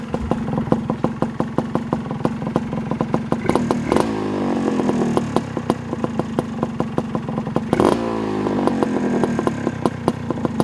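A 1982 Suzuki PE175 two-stroke dirt bike's exhaust crackles and buzzes close by, idling in a rapid rhythm and revving up sharply twice.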